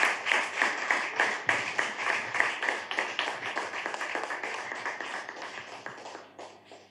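A church audience claps and applauds steadily to welcome a pastor to the front, dense, even clapping from many hands that slowly fades toward the end.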